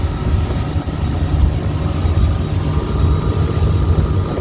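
Pro-Line 24 SS boat running at speed at almost 23 knots into the wind and current, a steady loud engine and hull roar with wind buffeting on the microphone.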